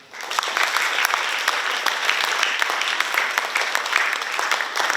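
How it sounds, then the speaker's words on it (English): Sustained, dense applause from a large crowd, steady and loud throughout with lots of individual claps blending together. "Let's give a huge round of applause"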